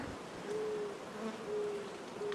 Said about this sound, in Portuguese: as abelhas já estão trabalhando normalmente